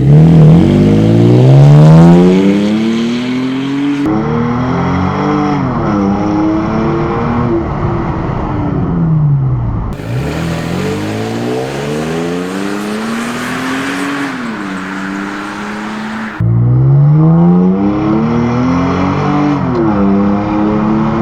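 A 2016-or-later Toyota Tacoma with an MBRP exhaust accelerates from a stop to 60, its deep engine note rising through several gears with audible shifts, loud and close from outside the truck.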